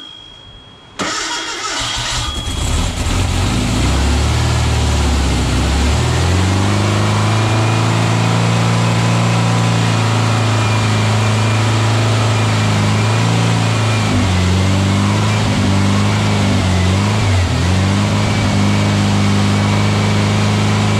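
A VW 1679cc single-port air-cooled engine with a Scat C25 cam fires up after cranking and settles into a loud, steady idle with brief throttle blips and dips, close to the microphone.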